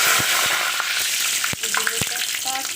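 A bay leaf dropped into hot oil that was used to fry potatoes for a chicken curry, giving a loud close sizzle with a few sharp crackles and utensil taps over the short stretch.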